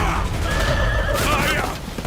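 In a battle scene from the anime Vinland Saga, a horse gives a loud, drawn-out whinny over heavy rumbling commotion, with voices mixed in.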